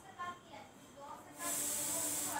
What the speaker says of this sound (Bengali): অল্প তেল দিয়ে নেড়ে চেড়ে ভেজে নিচ্ছি